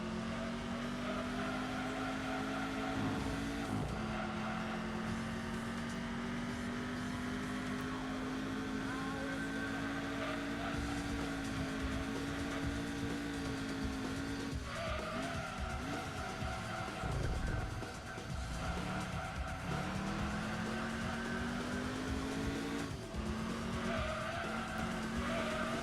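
Muscle car engine in the Gran Turismo 2 racing game, a thin, buzzy drone held steadily for the whole stretch, with pitch rising and dropping through gear changes and tire squeals, loud and close with no talking.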